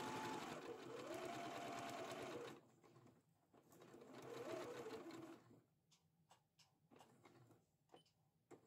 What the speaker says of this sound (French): on coud à 1 cm du bord en faisant un point d'arrêt au démarrage et un point d'arrêt à la fin